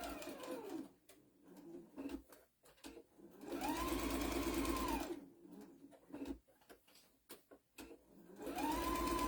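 A sewing machine with a 1/4 inch presser foot stitches a tea towel in several loud, close, whirring runs with a rising and falling motor pitch, separated by short pauses and clicks.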